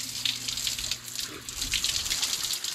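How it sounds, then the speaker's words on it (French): A gravity-fed shower with no pump or pressure, just water falling from a bare pipe in the Colombian Amazon, sends out a steady close splashing hiss. "Voilà, la douche."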